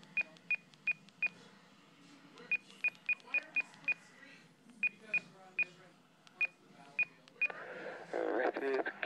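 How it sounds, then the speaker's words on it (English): A D-STAR repeater ID message comes through an Icom ID-31A handheld radio as a string of short, sharp beeps in irregular groups, followed by a burst of noisy transmission at the end. "I'll pull you the ID message of the repeater."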